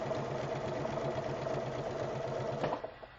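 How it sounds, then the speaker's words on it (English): A sewing machine runs steadily as it stitches around the edges of a fabric piece, with a fast, even mechanical whir and rhythmic needle clatter that continues close and constant before slowing and stopping near the end. "So we'll just sew around all the way around this."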